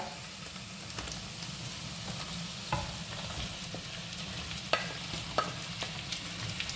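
Onion frying in a pan for chilli chicken gives a quiet steady sizzle, with occasional scraping and clinking as a spoon stirs it, and no talk.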